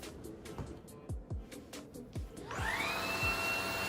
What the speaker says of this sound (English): Here you'll see that the high-speed motor creates a powerful suction.